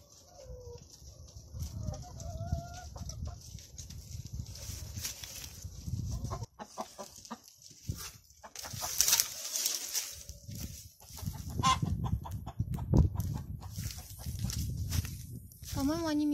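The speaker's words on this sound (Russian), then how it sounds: "Курочки." Chickens clucking and squawking inside a coop on an abandoned farm in Cyprus, close and fairly steady, with someone talking over them.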